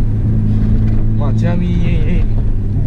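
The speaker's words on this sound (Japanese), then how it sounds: "個人的にね、マフラーの音がうるさすぎてね、聞こえないのよね。" A Nissan R32 GT-R with a loud aftermarket muffler drones steadily while driving, a deep constant engine and exhaust rumble inside the car as someone talks over it.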